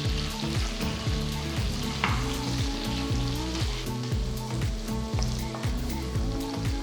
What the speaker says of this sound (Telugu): నెక్స్ట్ నేను పొడవగా తరిగిన 2 ఉల్లిపాయలు వేసి 1 నిమిషం పాటు వేయిస్తున్నాను.